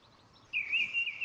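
A mistle thrush sings outdoors, a clear, sharp high phrase rising after a moment of quiet background, heard alone at moderate distance.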